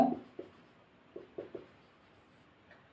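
Pen scratching out a working note on paper during an accountancy calculation, a few short separate strokes spread across the moment, close and quiet with no talk.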